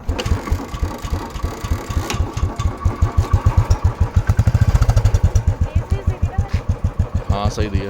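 Royal Enfield Bullet motorcycle engine thumping steadily at idle and light throttle, a loud close rhythmic beat that rises slightly mid-way, with people talking nearby.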